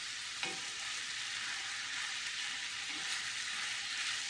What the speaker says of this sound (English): So just keep simmering it until that squash gets tender